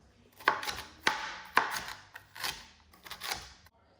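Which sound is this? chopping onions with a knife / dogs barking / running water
chopping onions with a knife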